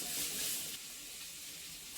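Mixed vegetables fry in a pan on medium flame with a soft, continuous hiss and crackle, faint and steady throughout with no talk.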